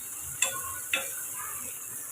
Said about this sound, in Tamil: இதை ஒரு ரெண்டு நிமிஷம் நம்ம வதக்கி விட்டுக்கலாம்